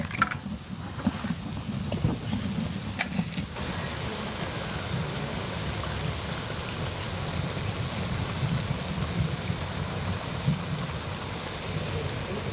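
Steady rain falling outdoors near a cooking spot, a dense continuous hiss of drops on surfaces that holds even and fairly loud throughout, with a few brief knocks early on and no clear talk.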